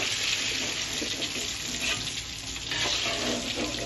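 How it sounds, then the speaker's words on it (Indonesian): Loud, steady sizzling of eggplant frying in a hot pan, continuous and close, with faint scraping and stirring underneath. "sepertinya ini terungnya udah matang ya"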